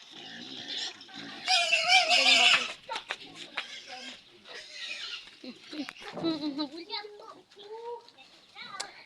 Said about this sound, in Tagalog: dyan po baboy.